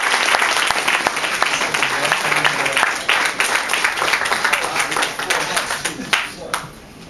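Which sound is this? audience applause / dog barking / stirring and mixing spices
audience applause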